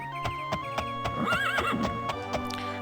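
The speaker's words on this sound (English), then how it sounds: "We've got a horse." A horse in Daggerfall gives a high, wavering whinny at mid-clip over a steady rhythm of clip-clop hoofbeats, all set against a continuous game music bed.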